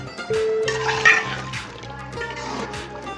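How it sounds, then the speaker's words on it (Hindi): Roughly a glass of water poured into simmering chicken korma, a splashing, gurgling pour with liquid sloshing against the pan, fairly close and clear, with no talk. "तकरीबन 1 गिलास पानी इसमें हम डालेंगे"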